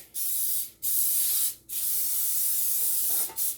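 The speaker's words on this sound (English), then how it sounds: "We're going to go ahead and spray our pan." Non-stick cooking spray hisses from an aerosol can onto a pan in three long bursts and a short final one, close by, with brief pauses between.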